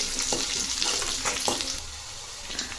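Onion frying in hot oil with ginger-garlic paste, cumin and mustard seeds produces a dense close sizzle with a few sharp stirring clicks.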